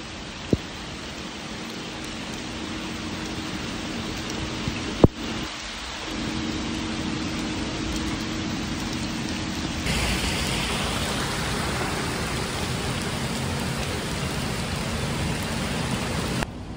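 Steady rain pours down on a school bus in a constant broadband hiss, growing slightly heavier partway through, with a couple of sharp isolated clicks early on.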